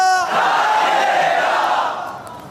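A large religious gathering shouts the Allahu Akbar slogan in unison. One loud, sustained roar of many voices opens the passage and fades out over about two seconds.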